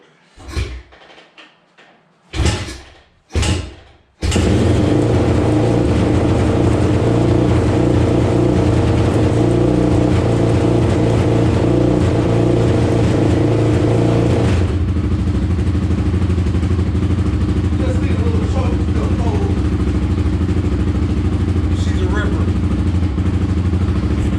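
A few short cranking bursts, then a 2005 Honda TRX450R ATV engine catches and runs steadily at a loud, rough idle, settling slightly lower partway through.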